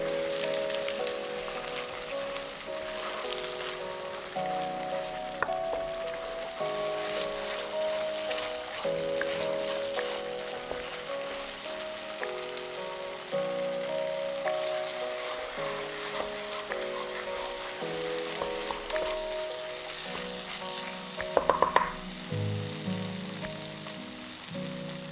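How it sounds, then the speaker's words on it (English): Rempah spice paste sautéing in a pan for Penang Hokkien prawn mee, a continuous moderate sizzle and bubbling with light scraping and a short clatter of the utensil near the end. "Saute the rempah until all the moisture evaporates and it becomes dark red in color."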